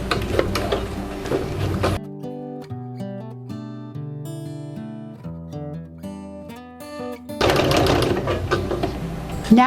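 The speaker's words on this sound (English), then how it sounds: "we're going to top stitch this, back tacking at both ends" A sewing machine top stitches a zipper with back tacking at both ends, its motor whirring steadily and close for several seconds between louder, busier handling noise at the start and end.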